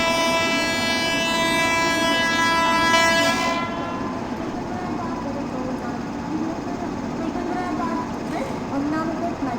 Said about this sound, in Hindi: हॉर्न बजाते थे गाइस प्लेटफॉर्म पे एंटर करने वाले हम लोग।